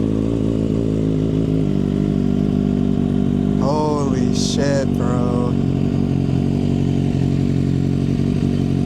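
A 2025 Kawasaki ZX-6R fitted with an unbaffled M4 Street Slayer slip-on exhaust idles loudly and steadily at close range, with a brief burst of revving near the middle, as a man exclaims over it.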